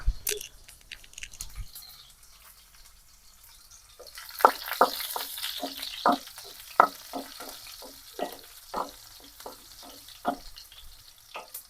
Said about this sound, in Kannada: ಬೆಳ್ಳುಳ್ಳಿ ಸ್ವಲ್ಪ ಕಲರ್ ಚೇಂಜ್ ಆಗೋ ತನಕ ಸ್ವಲ್ಪ ಫ್ರೈ ಮಾಡ್ಕೋಬೇಕು